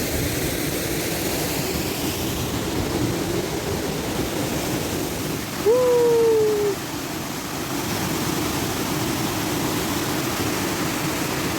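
A steady, loud roar of sea spray and splashing water fills the air without pause, with a brief rising whistle-like tone partway through and no voices.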